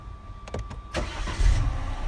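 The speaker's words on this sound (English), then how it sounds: "What I'm going to do now is start the car up." A BMW F20 1 Series petrol hatchback engine cranks briefly with a few starter pulses, then catches and settles into a steady low idle close by, with no talking.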